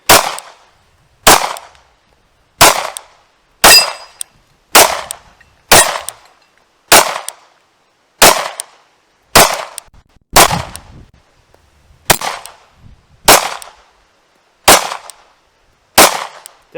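Thirteen single shots from a Glock G43x pistol firing 124-grain Federal HST rounds from 15-round Shield Arms magazines, each a loud, sharp crack with a short ringing tail, spaced evenly about a second and a quarter apart, with no talking.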